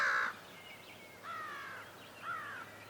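Three harsh caws from a crow spaced about a second apart, clear and moderately distant against a quiet outdoor background.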